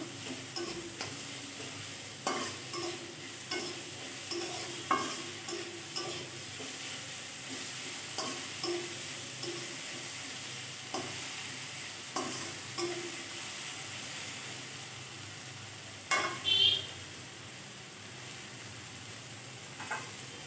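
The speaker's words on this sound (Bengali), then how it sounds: "এখন টমেটোটা ভেজে নেব" Tomato frying with ginger and turmeric in a pan, a steady sizzle broken by regular scraping strokes of a spatula roughly every second, close and moderate in level, with a couple of louder clatters near the end and no voices.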